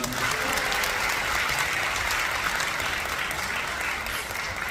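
A concert audience at a citizens' appreciation concert with a military band applauds, a steady, dense wash of clapping that holds evenly for several seconds.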